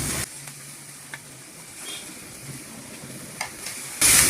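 Leafy greens added to hot oil with fried chili and garlic, sizzling steadily at close range with a few scraping stirs and a louder burst of hiss near the end.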